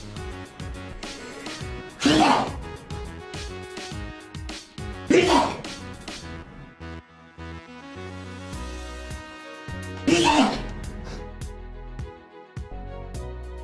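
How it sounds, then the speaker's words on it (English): Three separate loud sneezes spaced a few seconds apart, close by, over a quiet background. "If you're not sneezing 3 times in a row, you're not sneezing."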